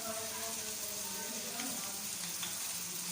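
Onion, tomato and ginger-garlic paste frying in a pan for a keema dish, a steady close sizzle with continuous crackle throughout.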